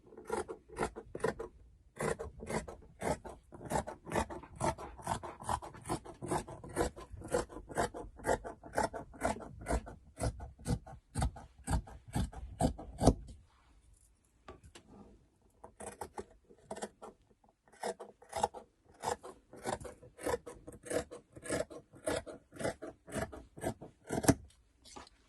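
Scissors snip through fabric for a peplum top in quick, rhythmic cuts, close and clear, pausing briefly midway before the crisp snipping resumes.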